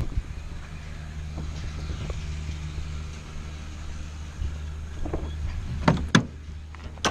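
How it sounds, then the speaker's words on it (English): A 1990 Honda Civic engine idles with a steady low hum, close by, and a few sharp mechanical clicks and clunks sound near the end. "I'm going to crank it up"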